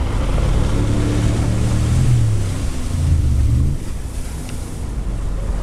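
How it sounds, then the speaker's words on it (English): A jet boat speeds along the Dart River near Queenstown, New Zealand, with a steady, loud roar and rushing water. Heavy wind buffeting on the microphone runs throughout. "We transfer from the bus to a proud local product, the jet boat."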